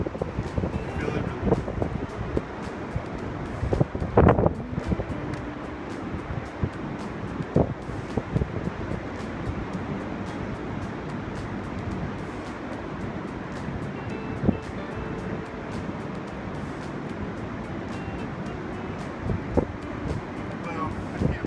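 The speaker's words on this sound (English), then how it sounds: "You get to listen to the ocean instead." Ocean waves washing ashore with gusting wind buffeting the microphone, a continuous rumbling surf texture at an oceanside spot, with people talking over it.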